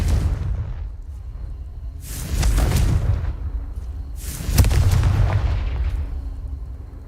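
Two heavy blasts from the Confringo fire spell in Hogwarts Legacy, each a loud, booming burst with a rumbling tail and a steady low roar between them, with no voices.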